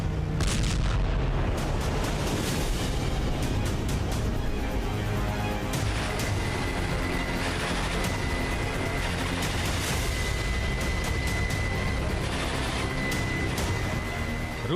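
Explosions from a Ukrainian sea drone attack on Sevastopol, Crimea, heard as a dense, continuous rumbling roar with heavy low-frequency booms, loud throughout with no distinct pauses.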